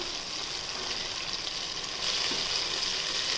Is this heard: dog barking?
no